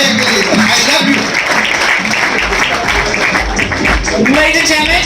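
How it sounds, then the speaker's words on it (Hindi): An audience claps at an Indian film awards ceremony, steady applause filling the hall beneath a host speaking over a microphone. "एक बार तालियां"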